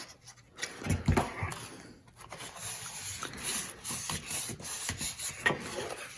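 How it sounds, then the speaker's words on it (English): Paper tab glued onto a gift box being burnished by hand, a soft close rubbing and scraping that comes in uneven strokes, louder near the start and then continuing steadily without any talk. "And burnish. Make sure that glue takes everywhere."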